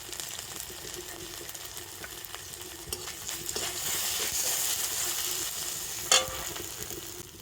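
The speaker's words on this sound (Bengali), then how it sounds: "তো তেলের সাথে 5 ফোড়ন আর আদাটা একটুখানি ভেজে নিয়ে দিয়ে দেবো অল্প একটু হলুদ গুঁড়ো" Panch phoron, ginger and turmeric fry in hot oil, a steady close sizzle broken by occasional scrapes of a spoon and one sharp clack near the end.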